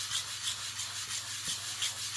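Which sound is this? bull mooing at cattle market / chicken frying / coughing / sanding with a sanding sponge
sanding with a sanding sponge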